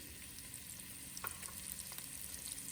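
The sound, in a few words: onions frying in hot oil in a pot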